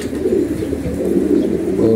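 Low, rolling coos from Jabra pigeons of an old breed line, continuous and fairly close, with no talking over them.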